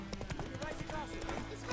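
Roach, the horse in The Witcher 3 video game, galloping with a quick clip-clop of hooves under steady game music and a voice talking.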